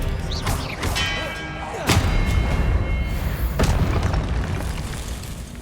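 Hogwarts Legacy combat spell effects: loud booming magical bursts and thuds, with sharp whooshing hits around two and three and a half seconds over a steady rumbling game soundscape.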